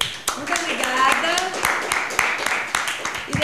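Hands clap in a studio setting, sharp uneven claps scattered over a few seconds alongside speaking voices.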